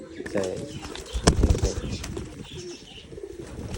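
A ghughu dove coos in a low, repeated rhythm, with wing flaps and small chirps from nearby birds mixed in. The calls sit close and moderately loud against a busy rural yard.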